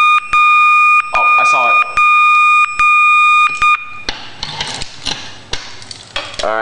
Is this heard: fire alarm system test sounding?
yes